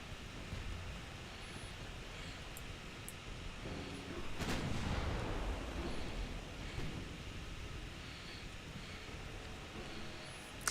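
Warship guns boom from a distance in Ultimate Admiral Dreadnoughts, a single heavy blast rising out of a constant wind-like sea ambience, with fainter thuds scattered around it.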